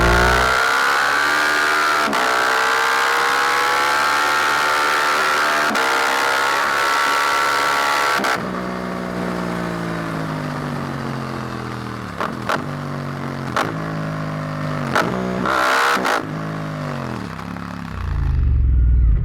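A Suzuki GSX-8R motorcycle engine pulls through the gears while riding, a loud steady drone rising and falling in pitch with several quick shifts and blips toward the end, alone without talk.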